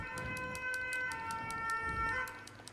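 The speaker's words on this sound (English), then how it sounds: "And we say hello to the ambulance." Ambulance siren sounding in the game Shining Soul, a steady wailing tone with a repeating pulse, heard over a dense mix of game noise throughout.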